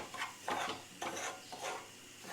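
Something fries in ghee in a pan, with quiet sizzling and soft stirring scrapes of a spoon repeating roughly every half second, faint and close with no voices.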